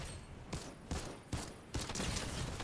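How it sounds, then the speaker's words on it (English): Drum shotgun fired rapidly in the Fortnite video game: four loud, sharp blasts about half a second apart, each with a short ringing tail, in steady rhythm with no talking. "I've got a drum shotgun as well, drum shotgun. And I'm firing, you know, I'm firing like fast"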